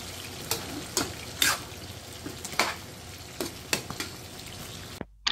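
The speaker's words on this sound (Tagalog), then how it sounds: "Halo-halo-haloin lang natin to para masangkot siya" Adobong puti meat with whole peppercorns being stirred in a pan, with scattered scraping clacks of the utensil over a soft, steady sizzle, fairly close, no voices.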